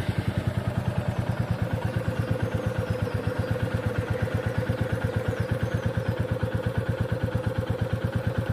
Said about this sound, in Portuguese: vou ligar a moto